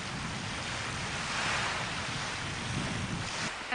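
Incoming tide waves wash steadily onto the shore in a continuous, loud surf roar, with wind buffeting the microphone close by and no talking.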